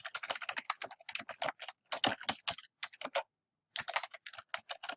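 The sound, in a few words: typing on a computer keyboard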